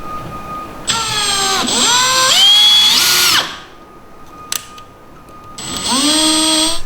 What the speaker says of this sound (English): Got a much smaller drill bit on now, and I'm just going to put this guy through just to make a little mark in the wall